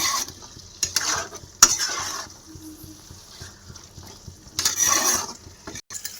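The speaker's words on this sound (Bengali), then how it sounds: "এবার আমি এটা ভালো করে মিশিয়ে নেব।" Cashew and melon seed paste being stirred into potato curry in a pan, intermittent scraping bursts of a spoon against the pan with soft sizzling between.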